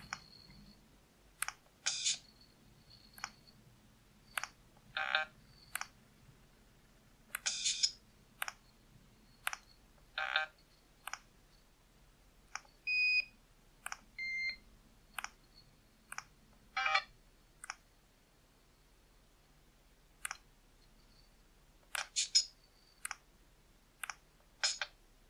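Sony Ericsson P990i phone emitting short beeps and clicks while a melody is composed in its Music DJ app, quiet, sparse taps scattered irregularly with brief electronic tones between them.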